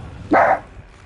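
A single dog bark, sharp and fairly close, rising loud for a moment before fading back into a quiet room.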